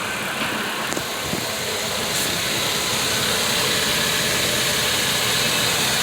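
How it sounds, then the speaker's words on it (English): A car engine idles steadily, a constant low rumble with broadband hiss, close and loud throughout with no voices. "With the engine running, make sure you don't hear any abnormal noise"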